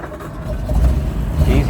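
A nut-and-bolt restored 1934 Packard Eight convertible's engine cranks and catches, then settles into a deep, steady, close rumble.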